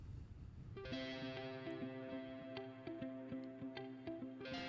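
Guitar played through the Neural DSP Archetype Nolly amp plugin straight from an interface: a clean, chorused chord arpeggio with shimmering echo and reverb, steady and fairly loud, with no talking.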